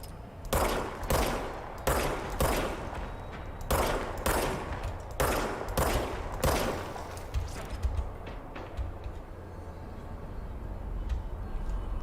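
Video game gunfire, a burst of roughly eight loud evenly spaced shots in the first seven seconds, then a few fainter scattered pops and ticks trailing off beneath a low background hum.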